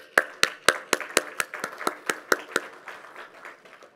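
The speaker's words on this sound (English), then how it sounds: "I got to clap." A single person claps hands at a tech conference presentation, about a dozen sharp, close claps in a steady rhythm that slow and fade toward the end.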